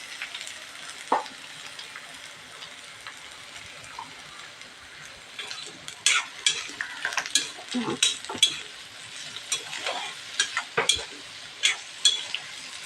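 Raw chickpeas frying in a pan with a steady close sizzle, joined by scattered clicks and scrapes of stirring that grow busier toward the end. No one speaks.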